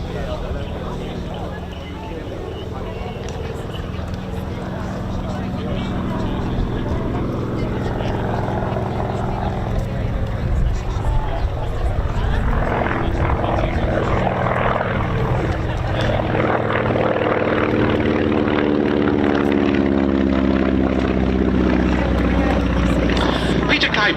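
A Staggerwing propeller aircraft flying past at an airshow, a continuous engine and propeller drone that swells as it passes, with a public-address commentator talking over it throughout.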